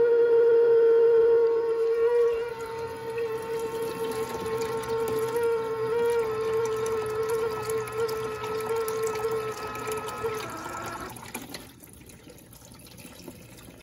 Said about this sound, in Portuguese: Barulho que eu falei que ela tá pra drenar.